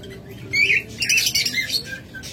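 Small parrots, lovebirds or budgerigars, in a cage give several shrill, scratchy squawks and chirps at close range, with faint rustling and fluttering between calls.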